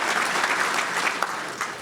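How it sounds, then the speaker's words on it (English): A crowd at a fundraising breakfast claps enthusiastically, a dense and continuous patter of applause that fades slightly toward the end. "give yourselves a round of applause"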